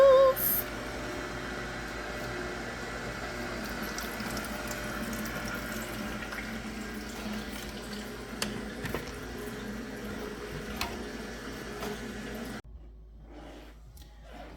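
Juice streams from a Nama J2 juicer in a soft, continuous trickle with faint motor hum beneath, and it stops abruptly near the end.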